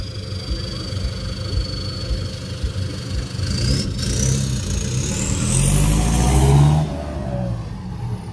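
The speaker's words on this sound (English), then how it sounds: "The van sounds like it has a turbo." A van that sounds turbocharged revs at a night street-racing meet in Johannesburg, its engine note climbing and swelling toward a loud peak near the end, with turbo whine rising over the rumble.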